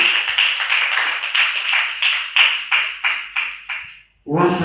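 A church congregation claps for Jesus in bursts of rhythmic applause, each wave swelling and fading in a steady repeating pattern, loud and close, before a voice breaks in at the end.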